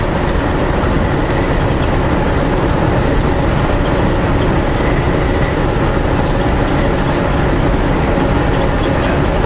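A strong wind blows across open ground in Manitoba, a continuous loud rushing roar with a deep rumble that never lets up.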